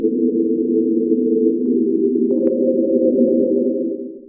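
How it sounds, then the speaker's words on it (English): A steady, droning tone processed through Absynth 5's granular Aetherizer effect with feedback, dense layered harmonics smeared and sustained by a delay-like effect, holding level before fading out at the end. "There's a feedback section here, so it's kind of like a delay effect."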